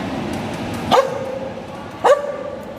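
A dog barks twice, close and loud, each a short sharp bark with a brief whining tail, spaced about a second apart over a hum of background noise.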